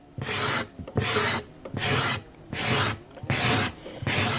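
Rhythmic scraping of a hand scraper across cherry wood, removing the old finish down to bare wood, six firm strokes in steady succession with brief pauses between each pull, close and clear.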